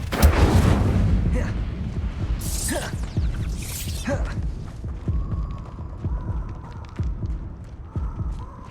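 The Incendio fire spell cast in Hogwarts Legacy, heard as a couple of whooshing, bursting blasts over a low rumbling game soundscape, followed by softer thuds and effects.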